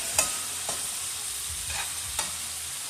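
Steelhead trout sautéing in oil in a pan, a steady close hiss of sizzling with a few sharp taps of a utensil turning the fish, no voices.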